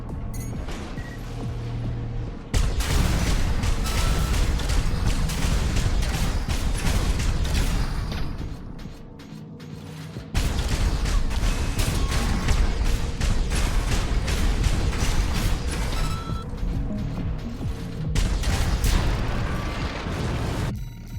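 Assault rifle fire from mechs in the video game Armored Core 6: loud, rapid bursts of shots over a heavy mechanical din, with brief lulls near the start and middle before the firing resumes.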